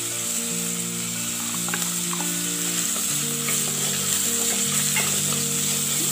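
Garlic fries in a pan for Kerala-style avoli fish curry, giving a continuous close sizzle with occasional light stirring and no talk.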